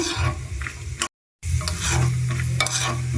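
Dry fruits frying in homemade ghee, a close sizzle with stirring scrapes, briefly cutting to silence before the crackling resumes steadily.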